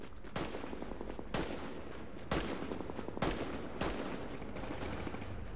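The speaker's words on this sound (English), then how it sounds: "Some gunshots going on." Bursts of gunfire in The Division's Dark Zone, several loud sharp volleys at about one-second intervals, with no talking.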